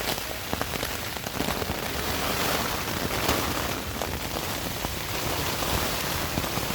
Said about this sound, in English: It's so rainy, and not only that, it's windy.